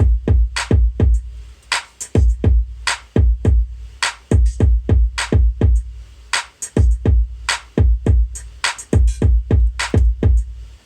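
Electronic drum beat built from a kick processed with Camel Crusher, claps and sample-pack hi-hats, a steady looping pattern of punchy booming kicks and crisp sharp hits, loud and upfront with no talk.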